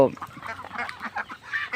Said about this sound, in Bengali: এখানে মোট এই চীনা হাঁস আর দেশি হাঁস পাতি হাঁস সহ মোট পঞ্চাশটা হাঁস আছে